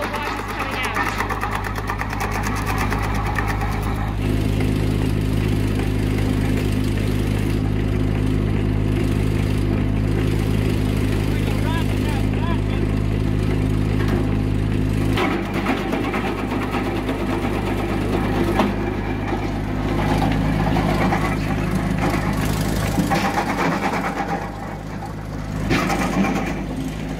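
An RP-200 wood chipper chipping dry spruce runs loud and steady, its engine droning under a rough, grinding crunch as wood feeds through, the load shifting partway before settling again.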